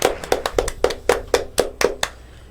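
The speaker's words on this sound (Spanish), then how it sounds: "ahora les quiero agradecer y por favor aplaudamos" A short burst of audience applause, about ten sharp distinct claps in an uneven rhythm, moderately close and fading at the end.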